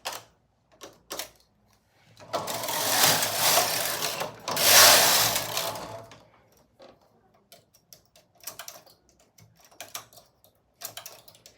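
A knitting machine carriage is pushed across the bed while knitting mesh, giving a long rasping, whirring sweep in the middle with scattered light clicks and ticks before and after.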